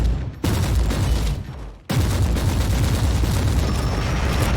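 Autogun fire in the game Warhammer 40,000: Inquisitor - Martyr, dense rapid bursts of shots with a booming low rumble, loud and close, broken by a brief pause between volleys.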